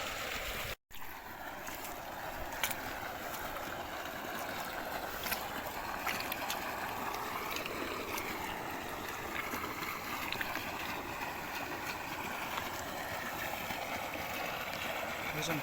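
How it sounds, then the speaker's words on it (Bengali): Water pours steadily out of a fishery drain toward a river, a continuous broad rushing flow heard up close outdoors, unbroken for the whole stretch. "আমি আপনার একটু দেখুন কিভাবে জলটা বেরিয়ে যাচ্ছে"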